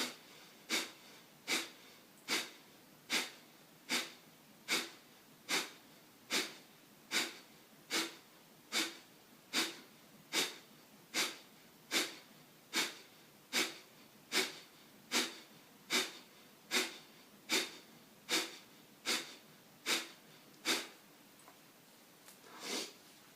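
Sharp, rapid nasal exhalations repeat in a steady rhythm, over twenty forceful puffs through the nose, close and clear with nothing else around.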